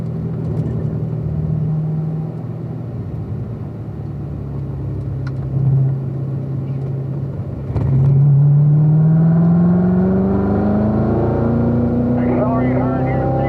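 A car accelerating out of a corner on a race track, its engine note rising steadily after a gear change and staying loud and close, with someone speaking over it.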